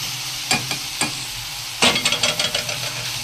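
Chopped onion and carrot fry in a pan, a steady sizzle broken by a few sharp clinks early on and then a quick run of stirring scrapes near the end, close and clear with no voices.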